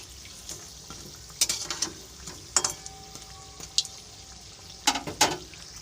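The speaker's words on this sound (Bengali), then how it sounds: "এবারে আস্তে আস্তে ভাজাটা হবে।" Sago vadas fry in hot oil over a lowered flame, giving a steady soft sizzle broken by several sharp crackling bursts and pops, close by with no talking.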